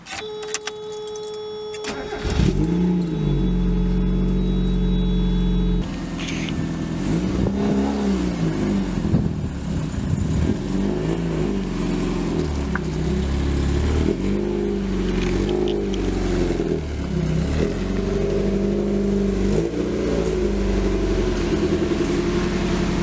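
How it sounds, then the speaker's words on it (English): A Mazda Miata's engine starts, then idles and revs unevenly as the car is driven slowly into a garage, the engine note sitting close and steady throughout. "I'm going to get the Miata in the garage real quick"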